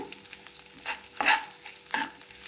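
A spoon stirs okra with green chillies, onion and curry leaves in a hot pan, making about three close scraping strokes over a light sizzle, with no voices.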